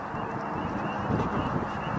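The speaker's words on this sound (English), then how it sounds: "They're mallards by the looks of things." Three mallard ducks fly in calling, their honking quacks coming in short bursts over a broad outdoor wash of background noise, moderately loud and unaccompanied by speech.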